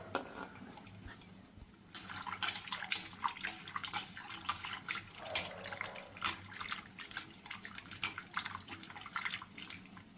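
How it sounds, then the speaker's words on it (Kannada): Vegetables are washed by hand in a bowl of salt water for a Karnataka-style vegetable dal curry, with close, irregular sloshing and splashing bursts that continue steadily after a brief quiet start. "ಉಪ್ಪು ನೀರು, ಈ ನೀರಿಗೆ ಹಾಕ್ಕೊಂಡು ಚೆನ್ನಾಗಿ ತೊಳೆದ್ಬಿಟ್ಟು ಕುಕ್ಕರ್ಗೆ ಹಾಕ್ಕೊಳ್ಳೋಣ"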